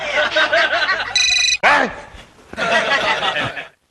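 A mobile phone ringtone chirps briefly between bursts of chatter and light laughter, with voices resuming right after the ring.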